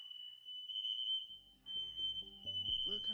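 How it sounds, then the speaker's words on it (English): A household smoke detector sounds a steady, piercing high-pitched tone throughout, while a faint musical backing with stepped notes rises underneath in the second half. "The bitch hopped on the table to turn the smoke detector off."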